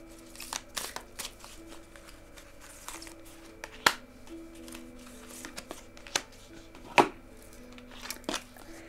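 Oracle cards are shuffled close by: a run of soft papery riffles and sharp slaps of the deck, some louder than others, with no one talking.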